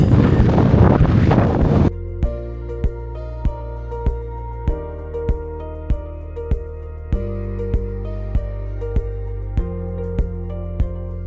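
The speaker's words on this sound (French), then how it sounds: "Il y a un vent de dingue." Strong outdoor wind roars loudly into the microphone during a walk after a run, a dense rushing blast for about two seconds before music takes over.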